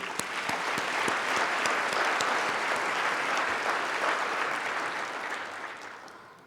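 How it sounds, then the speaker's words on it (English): A room of guests at a respite care luncheon gives a warm round of applause for volunteers, dense clapping that holds steady for several seconds and then fades out, with no voices over it. "How about a round of applause for them?"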